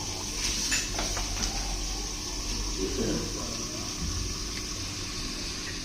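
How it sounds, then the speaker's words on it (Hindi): Household tap water is poured into a pot of curry (salan) in a home kitchen, a steady, soft stream of liquid with faint background clatter and no talking. "बस मैं घर का ही पानी डाल लेती हूँ सालन में"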